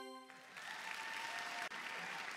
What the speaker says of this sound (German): oh, das Publikum am Ausrasten